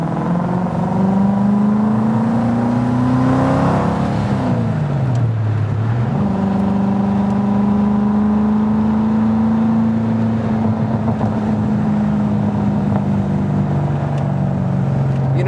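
A Datsun 240Z Z-Beast restomod accelerates hard from inside the car, its engine note rising, dropping through a gear change, then climbing steadily again, loud and continuous without talking.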